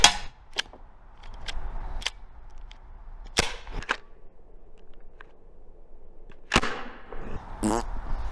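A Byrna HD less-lethal launcher fires a string of sharp pops at irregular intervals, each crack snappy and close against a quiet background with faint handling noise.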